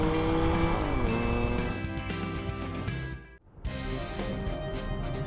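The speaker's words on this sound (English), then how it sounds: "This compact SUV is really packed with speed, power, and great handling." A compact SUV speeds along the Autobahn in Germany with a loud, continuous engine drone. The drone briefly cuts out to near silence partway through and then returns at full strength.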